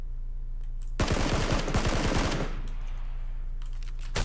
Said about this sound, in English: He has a shotgun outside.